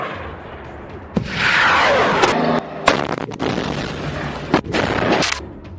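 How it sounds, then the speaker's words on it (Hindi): Rockets launched remotely by fighters near Jabalia in Gaza go off one after another, each launch a sharp crack followed by a roaring whoosh, several in quick succession at close range. "इसके बाद ये मिसाइलें एक के बाद एक फायर होने लगती हैं"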